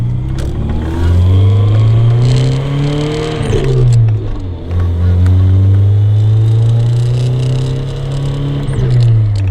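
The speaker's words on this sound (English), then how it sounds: "listen to the shifter rattle" Steady engine drone of a moving car with gear changes, a light mechanical rattling and buzz from the short shifter mixed in, close and continuous, no talking.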